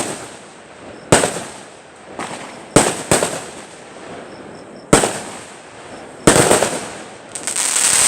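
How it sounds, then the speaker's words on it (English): Fourth of July fireworks burst in a steady series of sharp, loud cracks a second or so apart, each followed by a hissing crackle that fades before the next bang. "I had to get the fireworks."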